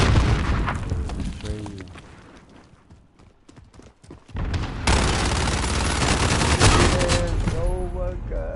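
Gunfire in a shooter game: rapid bursts of shots and booms crackle loudly, drop away to a quieter stretch in the middle, then return as a dense, continuous volley of fire.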